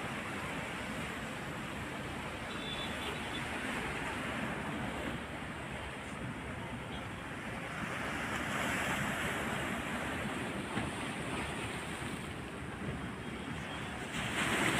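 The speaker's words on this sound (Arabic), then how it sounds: "البحر علا والموج زاد" Sea waves rolling in steadily along the Alexandria corniche as the water rises and the surf builds, a continuous wash of surf with gusty wind buffeting the microphone and no voices.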